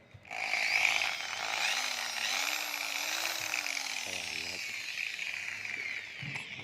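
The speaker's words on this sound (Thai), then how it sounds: "นี้เป็นสว่าน มาเทคนะครับ 430 วัตต์ใช้ได้นะครับ" A high-pitched Mastec 430-watt electric drill whirs steadily for several seconds, close and continuous, with a faint low hum drifting underneath.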